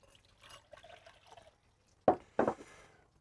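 Water is poured into a barbecue mug for a pulled-pork spritz: two sharp, close splashing bursts come after a stretch of faint background clatter.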